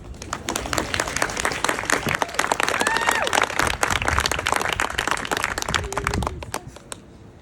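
A crowd claps at an art prize award ceremony at Bezalel Academy of Art and Design, loud dense applause with sharp individual claps that holds steady for several seconds before thinning and trailing off at the end.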